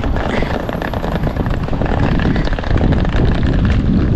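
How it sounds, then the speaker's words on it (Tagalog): Strong wind buffets the microphone in a loud, continuous roar with no pauses, masking any other sound. "Kasi malakas yung hangin."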